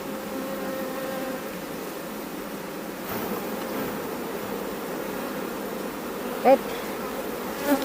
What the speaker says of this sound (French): Bien sûr que je vide des abeilles.